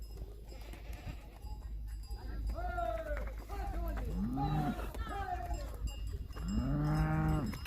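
Cows on the alpine pasture of Feistritzer Alm moo again and again, close by and loud, with a long bellow near the end. Cowbells clink faintly in the background among other grazing livestock.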